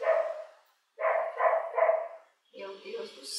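A dog barks in short clustered bursts, a few quick yaps separated by brief pauses, fairly close and moderately loud.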